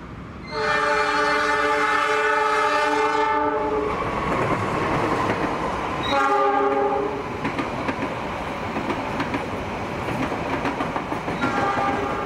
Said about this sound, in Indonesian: Yang akan segera melintas langsung di jalur nomor 4 adalah kereta api Argo Wilis dari stasiun Surabaya Gubeng tujuan stasiun Bandung.